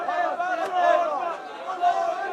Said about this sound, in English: People are chanting over and over again, with our blood, with our souls, we will defend Palestine.